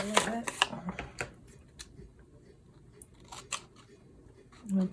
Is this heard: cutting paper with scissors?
yes